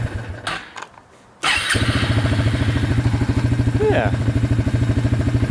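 A Suzuki Ozark 250 quad engine catches after a few cranking bursts and settles into a loud, steady, rhythmic idle close by. A brief voice comes in near the start.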